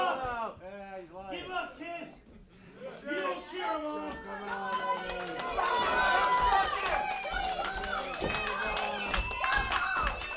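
A wrestling crowd at an Island Main Event show cheers and claps steadily behind voices, the noise building toward a louder, denser roar in the second half.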